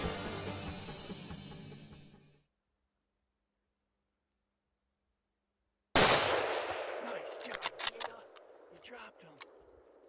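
A single sharp rifle shot cracks out while hunting a bull elk in British Columbia, bursting from silence at full loudness, then a scuffle of movement and clattering sounds follows.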